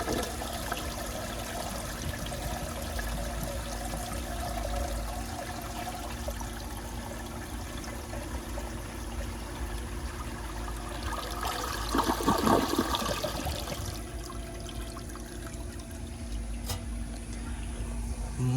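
A 1959 American Standard one-piece toilet with a flush valve that closes too soon flushes and refills, a steady rush of running water throughout, swelling briefly midway before settling back into a constant trickling fill.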